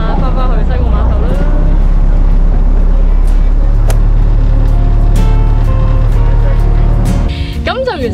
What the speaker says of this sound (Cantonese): 咁而家咧我哋就開船啦